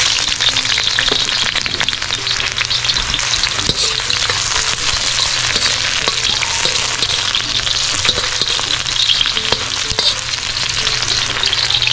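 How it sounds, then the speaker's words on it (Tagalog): Onions hitting hot oil in a pan as the sauté for a Filipino beef shank tomato stew begins, a loud, continuous hiss of frying with faint steady crackle throughout, no speech. "magigisa na tayo. Unahin muna natin sibuyas."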